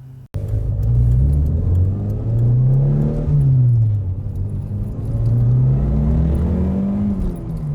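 A car cruises along a wet Melbourne road, its engine droning steadily with rising and falling pitch as it accelerates and eases off, loud and close throughout, with tyre and road rumble underneath and no talking.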